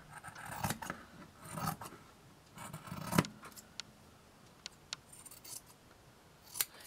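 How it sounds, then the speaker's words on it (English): Scissors trim a fabric edge for a crochet hook holder in a quiet room, with a few soft snips and rustles followed by sharp isolated clicks, and nobody talking. "And then I'm just going to trim that off."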